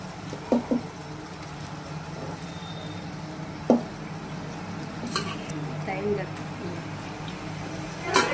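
Chicken mixed with salt and chili frying in a pan: a soft, steady sizzle with scattered clinks and scrapes of stirring, a few sharper knocks along the way.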